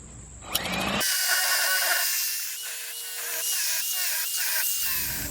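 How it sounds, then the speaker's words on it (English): A power drill with an auger bit whirs and bites into wood, its pitch dipping in repeated pulses as the bit grinds through, close and loud, after a brief knock. "I'm going to drill through with this auger bit right now"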